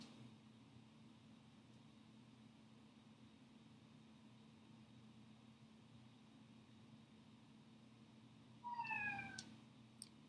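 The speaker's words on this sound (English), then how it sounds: "That was my kitty." A house cat gives a single short meow near the end, fairly close, after a long stretch of quiet room hum.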